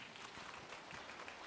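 A congregation gives a round of applause during a Catholic Mass opening a jubilee year, faint and distant steady clapping filling a large space.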